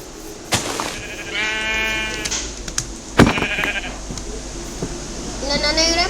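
Sheep in a video game give several wavering bleats, some short and some drawn out, spread across the scene over steady game background sound.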